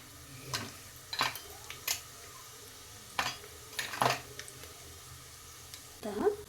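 Whole spices hit hot ghee in a pan for ghee rice, giving short bursts of sizzle and spoon clinks at irregular intervals, fairly quiet and close.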